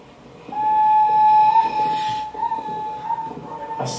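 A loud, sustained whistle blast sounds with a steady pitch, breaking off briefly before resuming in shorter bursts, with no talk over it.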